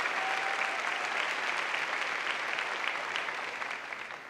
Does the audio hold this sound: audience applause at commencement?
yes